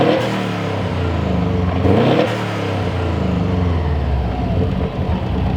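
A Subaru WRX engine with an HKS Hi Power exhaust revving loudly up and down a couple of times, a deep throaty rumble close by, with no talking.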